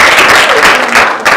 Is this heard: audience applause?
yes